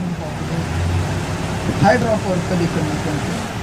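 Vehicle engine in the BGMI mobile battle royale game, a steady low droning rumble running throughout beneath overlapping talk from players.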